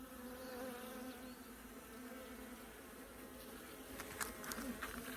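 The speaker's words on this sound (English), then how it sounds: "there's bees everywhere now" A steady, dense hum of many honey bees buzzing all around, continuous and fairly faint, with a few brief clicks near the end.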